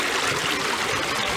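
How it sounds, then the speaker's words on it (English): Water flows steadily in a park stream, a continuous close trickling and babbling rush with no pauses. "It's water."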